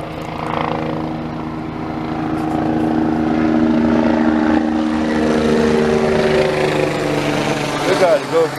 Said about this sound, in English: I have helicopters come overhead shining a light down here.